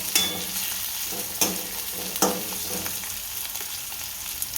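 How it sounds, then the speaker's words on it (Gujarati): Onions frying in a hot pan for aloo matar paratha, a steady close sizzle with a few stirring scrapes and clicks of a utensil against the pan, no voices. "આ કાંદા, એકદમ કાંદા ગરમ થવા દઈશું।"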